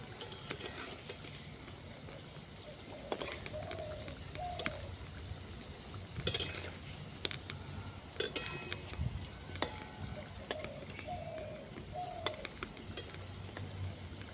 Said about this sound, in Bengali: এক পিঠটা ভাজা হয়ে গেছে, এক পিঠ উল্টে দেবো।